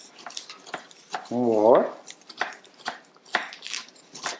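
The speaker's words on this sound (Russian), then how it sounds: "Теперь я нарезаю листья сельдерея." A knife chops celery leaves in a kitchen, making a run of quick, sharp, irregular taps, with a short spoken word partway through.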